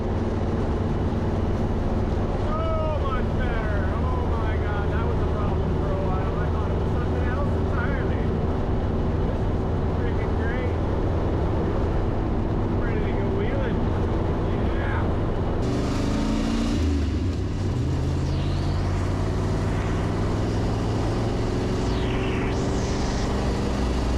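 A 1972 Jeep CJ5 with a new rear Adams driveshaft drives on a test drive, its engine a steady low drone with road noise throughout and a brief shift in pitch partway through.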